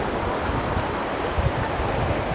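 Strong ocean waves breaking on a Boracay beach, a continuous loud roar of surf with gusting wind buffeting the microphone throughout.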